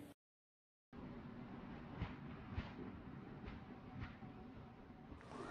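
A train rolls into a station in a video game, a steady rumble with periodic clanks, alone after a brief silent gap at the start.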